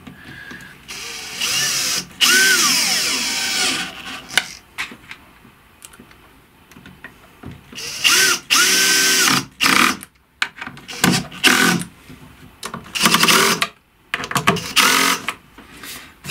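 A drill press whines in repeated short bursts, spinning up and boring hinge cup and mounting plate holes in Egger board for a second or two at a time, with pauses and small clunks between passes.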